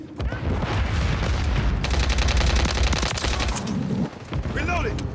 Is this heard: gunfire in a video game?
yes